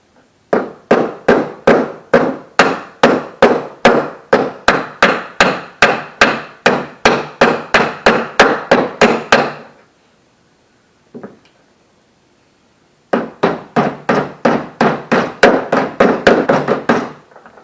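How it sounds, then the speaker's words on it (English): Hammer and dolly strike a car hood's inner structure in fast, evenly spaced metallic blows, a long close run of hits, a pause with one lone tap, then another burst. "I also brought my tin snips and a hammer and dolly, because this inner structure piece is actually pushed in the center."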